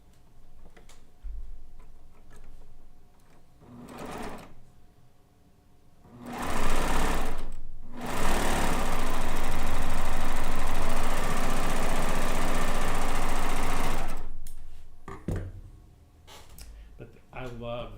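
A Euphoria sewing machine runs while piecing a quilt: a loud, fast, steady mechanical whir in two stretches, the longer one lasting about seven seconds, with someone talking in the quieter gaps before and after.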